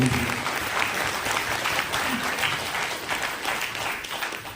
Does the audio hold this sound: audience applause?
yes